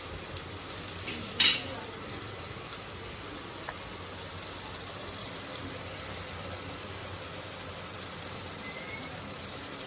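Onions frying in a pan until browned give a constant, even crackling sizzle, with one brief metallic clink early on.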